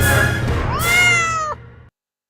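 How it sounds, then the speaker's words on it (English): A cat meows once, a clear drawn-out meow that rises and then falls, loud and close, with no other sound around it before it cuts to silence. "Meow."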